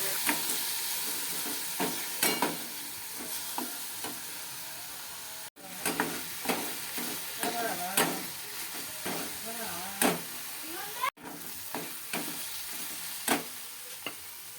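Pasta with onion, tomato and tomato ketchup being stirred in a frying pan, a steady sizzle under repeated scraping and tapping strokes of the spoon, with two brief dropouts.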